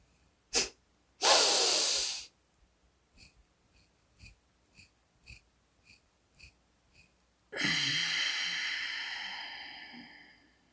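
Kapalabhati, or fire breathing, during a yoga breathwork lesson: a loud forceful breath, then a series of short sharp nasal exhalations at a steady pulse, and a long rushing exhale at the end, close and with no talking.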